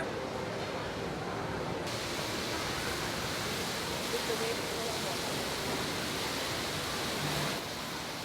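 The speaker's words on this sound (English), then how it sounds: "Just a casual 100-foot waterfall as you eat your meal." A 100-foot waterfall beside a restaurant, its heavy roar forming a loud, constant wash of rushing water throughout, close and unbroken.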